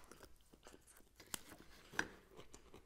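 Someone crunches a salty cracker from a 1988 ration, chewing close and quietly with small crackly bites and two sharper snaps.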